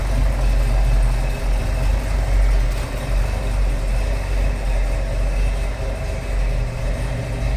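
A 1970 Ford Mustang Mach 1 Fastback with a 428 Cobra Jet engine idles smoothly and steadily, a deep, even rumble that runs on alone without any revving.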